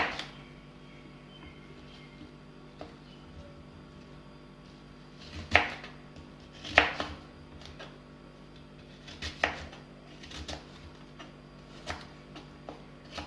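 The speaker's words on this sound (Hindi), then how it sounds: "अब हम एप्पल काटेंगे।" Knife cutting unpeeled apples for a fruit chaat: a handful of sharp, separate chops land on a board at uneven intervals over a steady low hum, with no talking.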